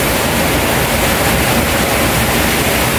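Strong rushing river water near a tunnel entrance, loud and steady, a dense unbroken roar that fills the whole clip with no pauses or voices.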